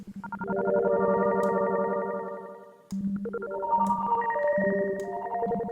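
Bright synthesized windchime tones from Massive X and Serum ring out in overlapping patterns, each note trailing into a long, shimmering reverb and echo tail built from a very fast delay.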